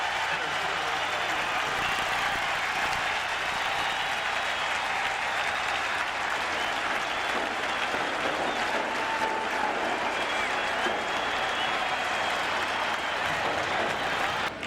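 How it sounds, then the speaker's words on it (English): Sustained roaring ovation from a baseball stadium crowd cheering Mark McGwire of the 1998 Cardinals after a big home run against the Mets, a steady, dense wall of applause and cheering that holds for the whole stretch. "even though he's put the Mets 2 runs behind, listen to this ovation"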